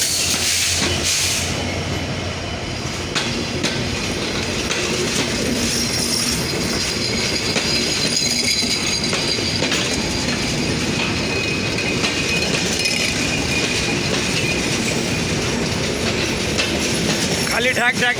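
Simanto Express hauled by locomotive 6612 near Parbatipur Junction, wheels clattering and squealing on the rails in a loud, continuous onboard rumble with rhythmic clicks and hiss throughout.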